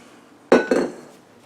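Two quick metallic clinks ring out close together as the 5-quart bowl of a KitchenAid Artisan tilt-head stand mixer is handled, each knock fading briefly in an otherwise quiet room.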